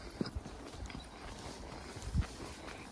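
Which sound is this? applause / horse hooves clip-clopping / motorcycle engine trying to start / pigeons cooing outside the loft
horse hooves clip-clopping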